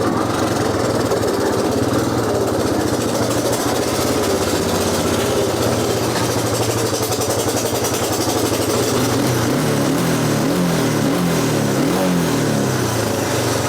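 The 1987 Honda TRX250 ATV's small single-cylinder engine runs steadily nearby, a loud continuous buzzing putter with slight pitch wavers, its carburetor in need of a tune-up, with no talking over it.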